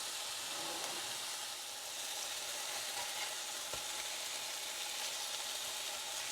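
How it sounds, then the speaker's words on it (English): Hamburger patties fry in a skillet with a soft, even sizzle and hiss throughout, fairly faint, with one brief knock midway. "we're just going to cook them long enough to where both sides are brown"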